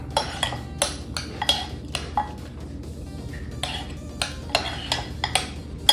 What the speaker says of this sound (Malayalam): എന്നിട്ട് ഇതെല്ലാം കൂടെ ചേർത്ത് ഇളക്കാം